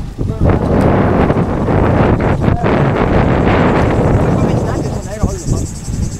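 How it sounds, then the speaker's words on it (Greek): Strong headwind buffets the microphone during a bicycle ride in loud, continuous gusts, roaring and fluttering close up, with brief voices breaking through near the end. "τώρα είναι κόντρα αέρας"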